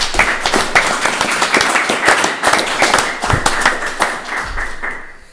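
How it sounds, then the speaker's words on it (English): Applause and clapping for a boxer at a WBU boxing press conference, a close, dense round of hand claps from a small audience that rises and falls before tapering off. "So give him a big round of applause"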